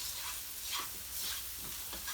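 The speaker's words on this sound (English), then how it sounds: "Give it a stir." Curry powder frying in a pan for curried prawns, a steady close sizzle with soft scraping strokes as it is stirred, continuous and fairly loud throughout.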